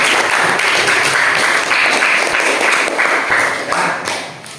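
A classroom of students applauding during a lesson, loud close clapping that fills the space steadily and tapers off toward the end.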